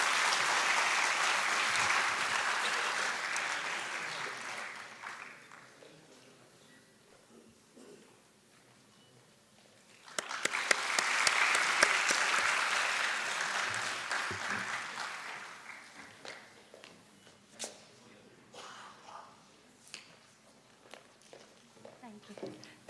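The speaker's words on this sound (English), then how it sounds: "Big round of applause." Audience applause at a university stage event, two bursts of clapping with a quieter lull and scattered claps and footsteps between them, moderately close and with no talking.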